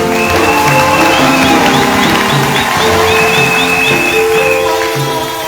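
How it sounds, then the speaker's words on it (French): Audience applause at a birthday celebration, steady clapping from a crowd with faint cheering, layered over sustained background music. "Applaudissons très fort."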